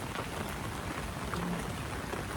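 Heavy rain pouring down in a coastal town in Konkan, a dense, steady hiss of rainfall close by with no pauses.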